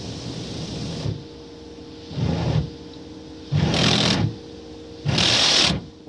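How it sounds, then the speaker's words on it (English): A Mark VII Choice Wash XT automatic car wash at a gas station runs with loud bursts of high-pressure spray, four separate surges of hissing water over a steady mechanical hum, each lasting about a second. "So I'm guessing it does a high pressure rinse"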